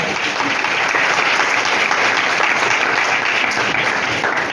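A congregation at a village church convention in Faisalabad breaks into vigorous, continuous clapping, loud and evenly sustained across the whole stretch, with no speech above it.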